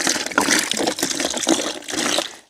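Water poured from a carried container into a basin for washing hands outdoors in a garden, a steady close gushing stream with splashing that runs almost unbroken, easing off at the very end.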